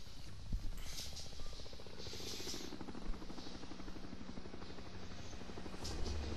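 A helicopter in the action game X-Men Destiny, heard during a cutscene as a steady, fast rotor chop that pulses without a break under a wash of game ambience.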